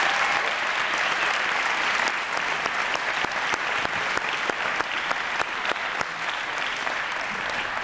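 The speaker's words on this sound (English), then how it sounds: "Please give her a round of applause." A crowd applauds steadily at a football signing day event, sustained and fairly loud with crisp individual claps standing out throughout the roughly eight-second ovation.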